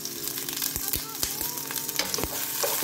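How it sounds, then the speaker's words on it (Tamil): Onions and curry leaves sizzle steadily in hot oil in a pan, with regular stirring knocks from a spoon over the continuous frying hiss, close and fairly loud. "இதை நல்லா ஃப்ரை பண்ணிக்க போறோம்."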